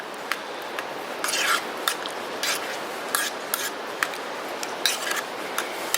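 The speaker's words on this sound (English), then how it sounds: "I'll just have to stir it more often and just keep a close eye on it so it doesn't scorch the bottom" A spoon scrapes and clinks inside a metal canteen cup while canned hoops are stirred, giving close, repeated rasping strokes with sharp metallic taps at an uneven rhythm.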